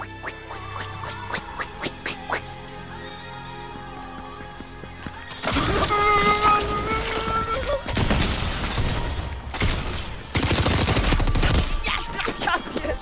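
Gunfire in a Fortnite match, long loud stretches of rapid automatic shots and bursts close up, with game music and effects and players talking.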